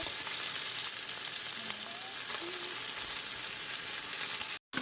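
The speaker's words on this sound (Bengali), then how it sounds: "মাছ ভাজা কিন্তু হচ্ছে।" Fish sizzles and fries steadily in a pan in an outdoor village kitchen, a continuous close hiss with faint crackles and a brief dropout near the end.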